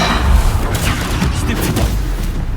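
Bombarda blasting spell going off in Hogwarts Legacy: a loud, close explosive boom with crackling debris and a rumbling tail, set against ongoing combat noise.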